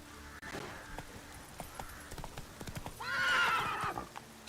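Horse from The Witcher 3 video game galloping, with hoof clip-clops and a loud whinny near the end, heard up close over a game background.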